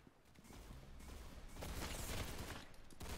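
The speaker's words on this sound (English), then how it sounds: "Ooh, a railgun. This will be fun." Weapon fire from a railgun in a first-person shooter, a dense burst of sharp shots and blasts building louder through the second half, with no talking.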